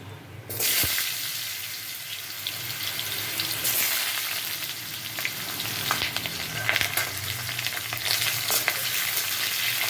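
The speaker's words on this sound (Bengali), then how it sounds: "আলুগুলো একটু ভাজা ভাজা হোক" Potatoes fry in a pan with dried red chilli and bay leaves for a papaya curry, making a continuous loud sizzle with occasional stirring clatters.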